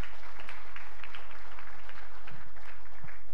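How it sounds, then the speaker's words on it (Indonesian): Audience applause for partners at an Indonesian education ministry launch of a school health program, a steady patter of many hands clapping at moderate distance for a few seconds. "Tolong tepuk tangan untuk mitra-mitra kita hari ini"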